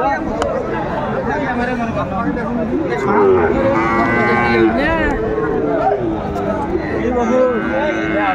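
A Sahiwal bull lows in drawn-out calls amid a busy crowd of chattering voices at a cattle sale, with other cattle sounds mixed into the background noise.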